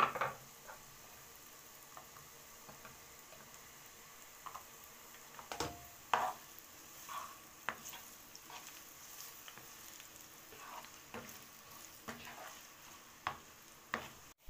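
Onions go into a hot pan for seafood spaghetti, giving a faint, steady sizzle broken by scattered clicks and taps of stirring, with no talk.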